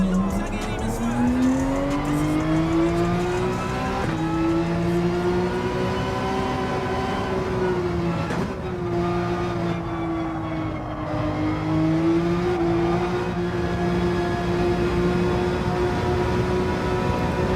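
Racing car engine in Gran Turismo holds a loud, steady high pitch that climbs and dips through gear changes, with brief tire squeal, under occasional voices.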